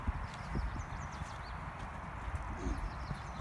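A horse trots in a riding arena, its hoofbeats a steady, fairly faint clip-clop under a low rumble of background noise, with a few birds chirping in the distance.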